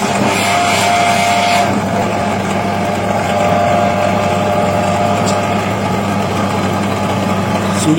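An NRT-PRO 13mm bench drill press runs steadily at speed, a loud continuous motor whir and hum with a constant drone and no pauses, free of speech.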